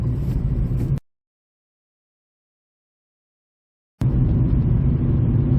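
A 2015 Ford Ka Mark II 1.2 Zetec cruises along a faster road as a steady low engine and road rumble from inside the cabin, cut by a stretch of complete silence in the middle.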